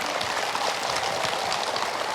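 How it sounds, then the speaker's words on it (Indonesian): A studio audience applauds during a religious television talk show: a dense, even wash of clapping, moderately loud and continuous from start to finish, with no voices over it. "tepuk tangan"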